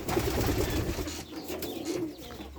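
Pigeons coo in a steady, overlapping chorus close by, with soft rustling and occasional wing flutters in the background.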